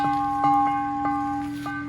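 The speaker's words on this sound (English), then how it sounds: "My wind chime still standing." A wind chime left standing in a wildfire-burned neighborhood rings softly, its sustained metallic tones overlapping as a few gentle strikes sound over about two seconds, with no talking.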